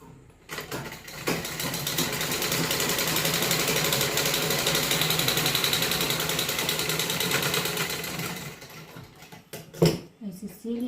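A sewing machine stitches along the edges of a net kurti, running in one long, steady mechanical whir for several seconds, then stopping, with a few clicks and handling noises near the end.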